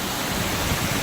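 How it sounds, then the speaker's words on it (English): Waterfalls along a mountain trail from Mowich Lake give a steady, dense rushing roar that holds evenly at close range with no breaks. "Ooh, waterfalls."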